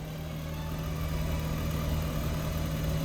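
A rebuilt engine in an imported Nissan Skyline R32 runs on its first start with a blown turbo, giving a steady, low, droning idle with a constant hum close by and no talk.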